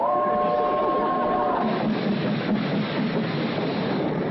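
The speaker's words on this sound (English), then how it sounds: "Here's the train." A train pulls into a station, a steady rumbling rush of rail noise filling the whole stretch, with a brief high whistle-like squeal near the start and speech faintly underneath.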